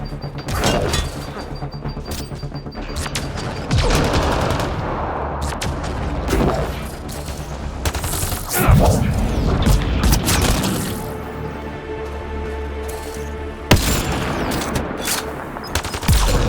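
Heavy gunfire in the video game Mass Effect Andromeda: loud bursts of automatic fire and booming impacts crackle almost nonstop, with brief gaps and sharp blasts standing out near the middle and end.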